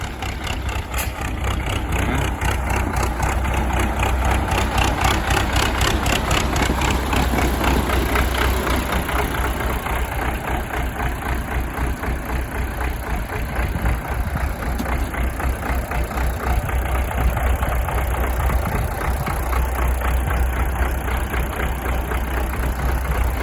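An MTZ-80 tractor diesel engine idles close by with a loud, continuous low rumble and rapid rhythmic knocking that stays steady throughout, with no talk over it.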